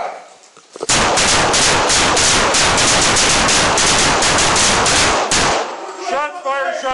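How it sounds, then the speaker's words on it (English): Rapid, continuous burst of gunfire during a police encounter, loud and close, running for several seconds before cutting off abruptly, followed by a brief crackly tail. "Shots fired! Shots fired! Shots fired, shots fired, shots fired."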